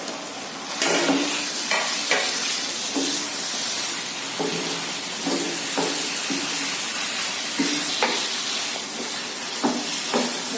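Chopped capsicum and celery stir-fry in a hot pan for a chicken dish, with a continuous sizzle broken by repeated scraping and stirring strokes and no talking.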